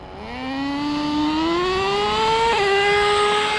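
An HPI nitro RC car engine revs up while drag racing, a high whining buzz that climbs steadily in pitch, briefly dips at a shift, then keeps screaming loudly and alone.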